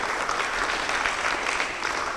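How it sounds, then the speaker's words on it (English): Dense, even audience applause at a poetry slam quarter final in Gambia, a continuous wash of many clapping hands held at steady loudness throughout. "A round of applause for him, please."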